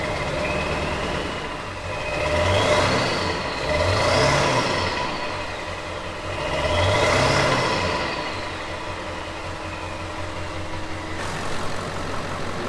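A 7.3 Powerstroke diesel truck engine with its muffler still fitted runs nearby, rising and falling through three slow rev swells before settling into a steady, fairly quiet idle rumble.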